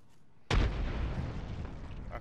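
A frag grenade detonates in the video game Apex Legends with a sudden, heavy boom that cuts in sharply and rumbles away over the next second and a half.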